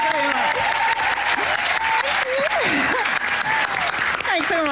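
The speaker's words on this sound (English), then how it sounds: "give a big Cheltenham cheer for Isabel Thomas" A Cheltenham audience applauds and cheers as Isabel Thomas is welcomed onstage, producing a loud, continuous roar of clapping mixed with voices speaking over it.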